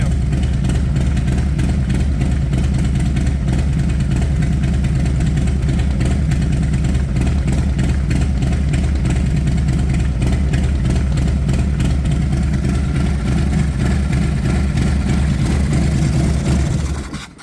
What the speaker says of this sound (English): You can always tell when it warms up, she starts loping. You can hear that cam.